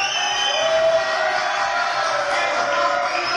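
A studio audience on a French TV entertainment show applauds and cheers for Divine Cathy, a steady dense wash of clapping and crowd noise that holds level throughout.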